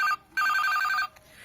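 Telephone ringback tone heard while a call is being placed: a short electronic ring burst followed by a longer one, close and clear, with no talk over it.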